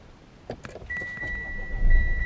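Mitsubishi Outlander diesel engine restarting after a fuel and air filter change: a few clicks, a dashboard chime tone, then the starter and engine catching into a low rumble that grows louder, close by.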